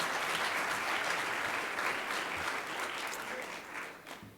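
Sustained applause from an audience during a Baltimore County Executive budget address: dense, steady clapping that holds for several seconds, then thins and fades toward the end.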